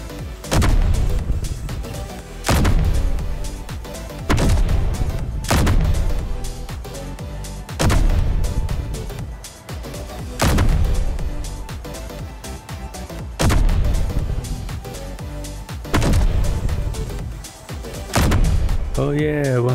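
Gunfire in Space Engineers aimed at a gun turret, heavy cannon-like shots repeating roughly every two and a half seconds, loud and booming with long decaying tails.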